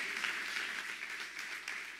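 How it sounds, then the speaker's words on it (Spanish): Steady, fairly quiet applause from a church congregation, a continuous wash of many hands clapping with no talk over it. "Dale un aplauso a Jesús"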